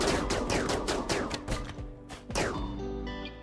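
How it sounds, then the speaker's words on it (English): Raiders' gunfire in RimWorld: a rapid series of sharp, close shots in quick bursts, each with a short ringing tail, ending in a sustained metallic ring. "let's get behind some trees, because they are starting to fire back"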